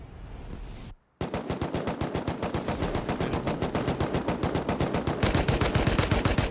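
Rapid gunfire from a semi-automatic rifle and an MP5 in a video game, loud and close, with one short burst, a brief gap and then a long unbroken string of fast, even shots.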